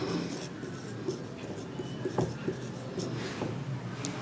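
Marker or chalk strokes on a board during a class on Python tokens and identifiers, faint scattered scratches over a quiet room hum.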